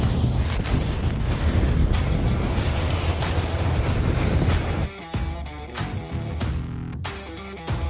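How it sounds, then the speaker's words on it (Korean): Sea waves surge in and wash over a coastal fishing spot near Mokpo, a loud continuous roar with broad noisy rushes that later breaks into choppier, intermittent gusts. "파도가 너무 많이 들이쳐서 안 되겠어."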